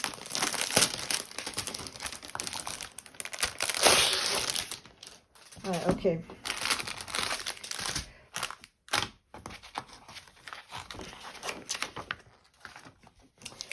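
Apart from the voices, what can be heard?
crinkling plastic packaging of a diamond painting canvas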